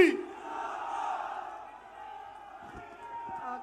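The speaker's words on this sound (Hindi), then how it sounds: "जोरदार तालियों के साथ सोनिया गांधी, सोनिया गांधी।" A large crowd at a Congress political rally in Jaipur cheers and shouts loudly, a sustained roar that slowly eases, with an amplified voice also heard.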